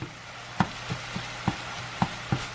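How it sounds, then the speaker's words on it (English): Split kielbasa sausages frying in a pan: a steady low sizzle broken by sharp, scattered pops and crackles about every half second, close by, with no one talking. "I'm just cooking some sausage"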